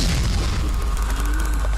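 A deep booming explosion in the video game Animatronics Survival, a loud sustained low rumble filling the whole moment, with no speech over it.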